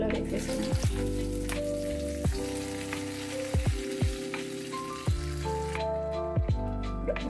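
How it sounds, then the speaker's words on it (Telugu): Hot tempering of dried red chillies and curry leaves sizzles loudly as it is poured into hotel-style peanut chutney off the stove, a sustained crackling fry with sharp pops and spoon clinks over a musical background. "ఇప్పుడు స్టవ్ ఆఫ్ చేసుకొని ఇప్పుడు ఈ తాలింపుని ఇందులో వేసేసుకున్నాం."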